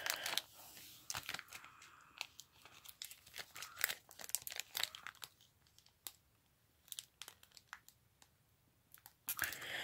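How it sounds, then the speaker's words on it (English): A NASCAR trading card pack's foil wrapper is torn and crinkled open up close, giving irregular bursts of sharp crackling and tearing with quieter pauses between them, and no talking. "Now let me open up the pack all the way"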